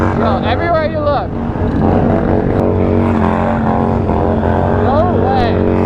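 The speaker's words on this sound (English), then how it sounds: "these Harleys are tearing up right now" Harley motorcycles rev loudly at a gas station, with rising and falling engine sweeps over a dense, steady roar and a crowd talking close by.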